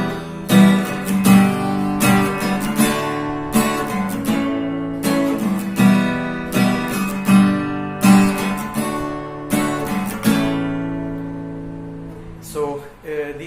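An acoustic guitar strums chords in a rhythmic down-down-up pattern, bright close chords ringing clearly with no talking.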